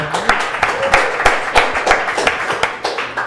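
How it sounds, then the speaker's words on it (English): A small group claps for a fortune cookie handler at a live podcast taping, the sharp individual claps clearly separated in a loose, uneven rhythm, close and fairly loud. "Round of applause, guys."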